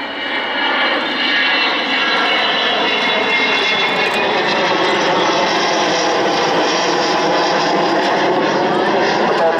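Avro Vulcan XH558 delta-wing bomber sweeps past at the 2014 Waddington air display, gear up and bomb bay open, its engines a loud, continuous broadband roar that holds steady from start to finish.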